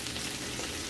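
Cabbage fries in a pan with a steady, dense sizzle and crackle, even and continuous at close range.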